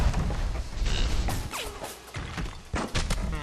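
Mechanical clanks, creaks and ratcheting gear noises from a Big Daddy in the BioShock video game come in uneven bursts with heavy thumps between them, fairly close and with no talking.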